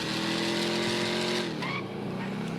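A car engine in GTA 5 revs hard and climbs in pitch as speed builds, with tire squeal and a sustained racing roar throughout.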